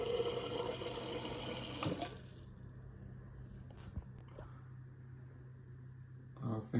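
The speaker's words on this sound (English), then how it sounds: "Make sure you run your water." Water flows from the dispenser of a Samsung Hub refrigerator after a filter change, a strong steady stream for about two seconds, then a quieter trickle with faint knocks and a brief louder burst near the end.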